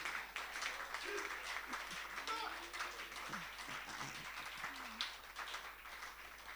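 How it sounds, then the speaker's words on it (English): Audience applause at a health talk, a sustained burst of many hands clapping at moderate distance, with a few voices calling out and speaking over it. "Let's give him another clap."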